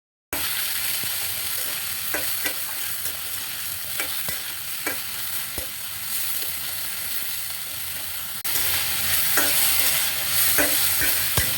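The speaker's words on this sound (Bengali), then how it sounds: "ভালো করে নেড়ে চেড়ে 5 মিনিট রান্না করে নিব" Red amaranth greens (lal shak) with green chillies fry in a pan, giving a continuous loud sizzle broken by repeated scraping taps as the leaves are stirred, and the hiss grows slightly stronger near the end.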